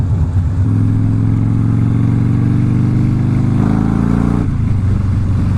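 Motorcycle engine running steadily while being ridden, loud and close, with a strong droning hum that shifts pitch as the rider changes speed, with no talking.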